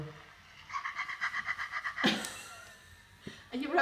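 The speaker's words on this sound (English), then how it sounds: "Is Fluffy snoring" A toy puppy gives a rhythmic series of soft snoring breaths, about ten quick evenly spaced puffs, followed by a brief louder rustle and a faint squeak; quiet and close.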